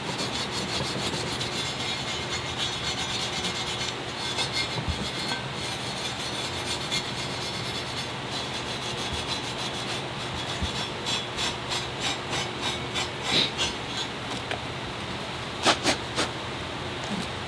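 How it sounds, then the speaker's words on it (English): A scuff pad rubs over a VW engine surface being cleaned for timing belt and chain tensioner work, a steady close abrasive scrubbing that continues throughout with a few sharper strokes near the end. "after scraping that, I'm gonna use a little scuff pad."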